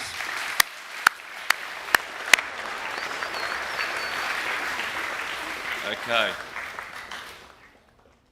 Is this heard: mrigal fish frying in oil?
no